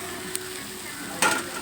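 Tomatoes go into a sizzling mutton and cashew curry pan: a constant loud hiss of frying, with a small tap early on and a sharper burst of sizzle and stirring near the end, no talk.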